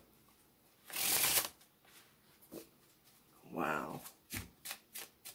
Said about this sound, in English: I could tell right off the bat that they're traditionally cut, so that means they're going to faro from face to back.